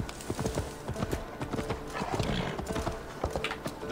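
A horse galloping in the video game Assassin's Creed Valhalla, with rapid, rhythmic hoofbeats that are loud and close and keep a steady clip-clop pace the whole way through.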